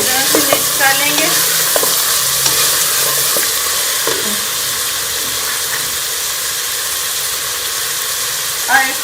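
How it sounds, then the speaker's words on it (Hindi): Beef and tomatoes in a pan for balti gosht: a loud, continuous sizzle and hiss of frying, with intermittent scraping and clanking from the stirring spoon up close. "इसको भी अच्छी तरह से मिक्स कर लेंगे"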